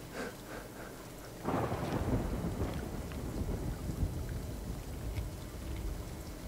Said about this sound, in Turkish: Şimşek çaktı.